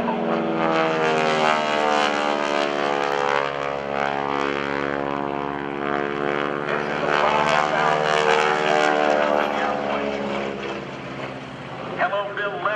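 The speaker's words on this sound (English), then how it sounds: "This is a World War II trainer." A World War II propeller trainer airplane rolls over at an air show, its engine droning loud and steady with shifting pitch throughout.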